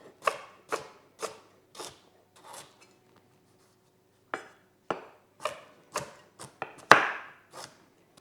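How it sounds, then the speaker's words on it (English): A knife chops through firm sweet potato on a cutting board in irregular single strokes, dicing it into cubes, with a pause midway, close and crisp. "And then I'm just going to dice this into cubes."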